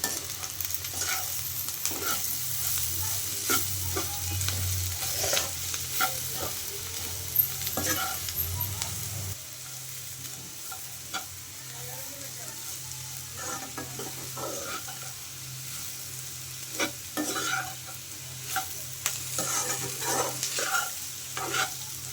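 Sliced ivy gourd (dondakaya) frying in a pan with chilli powder, coriander powder and garam masala, stirred with repeated scraping strokes over a continuous close sizzle; a low hum drops away partway through and no one talks.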